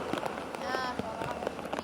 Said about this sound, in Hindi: आप देख रहे हैं कि वहां पर जोरदार बारिश है